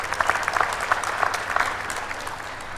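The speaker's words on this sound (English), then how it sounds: "I think we should applaud that." Audience applause at a University of KwaZulu-Natal ceremony, steady dense clapping filling the room at moderate loudness with no voices over it.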